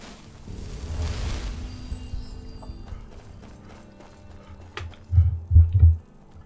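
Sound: horse hooves and neighing in video game Skyrim

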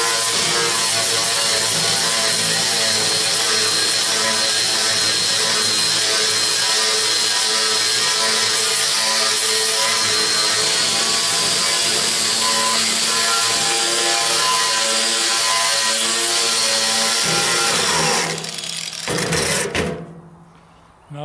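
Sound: power sander with sanding disc removing paint

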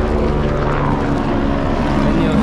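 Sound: helicopter flying overhead

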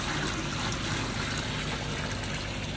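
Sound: hot water poured into a channel drain

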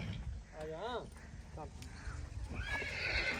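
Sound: horse neighing

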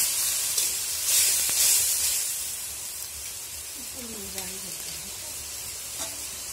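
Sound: turmeric, chili and coriander spice paste frying in kadai

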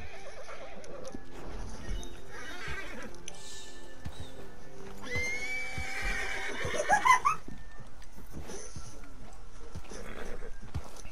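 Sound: horse neighing in video game Red Dead Online

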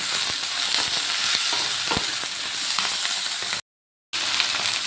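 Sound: chopped tomato frying in pan

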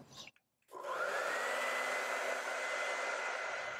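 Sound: hair dryer drying acrylic paint

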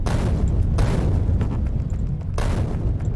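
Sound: explosions from blasting rocks in Factorio video game

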